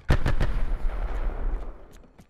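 A nine-bang stun grenade goes off in Black Ops 4 multiplayer, a rapid run of sharp, loud bangs close together, then several fainter pops as the echo fades out.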